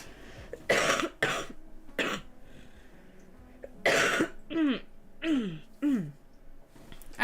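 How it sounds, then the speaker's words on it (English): Repeated coughing and throat clearing by a person on a live stream, several harsh bursts spaced a second or so apart, close and moderately loud with no talking between them. "I'm so sorry I keep coughing."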